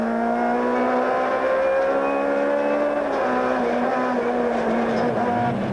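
A Toyota rally car at speed on a 1997 rally stage, its engine note droning steadily with shifting harmonics and rising pitch as it accelerates, loud and continuous throughout with no voices.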